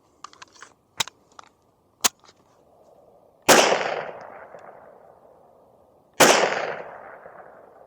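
Two sharp, loud gunshots from a Walther P1 pistol firing LAX ammunition, each a hard crack with a long decaying echo, a few seconds apart, preceded by faint metallic handling clicks.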